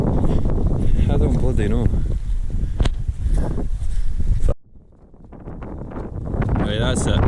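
Strong wind buffeting an OEX Phoxx 1+ UL tent, a heavy roaring rumble with fabric flapping, dropping off abruptly before gusting back up, with someone talking over it.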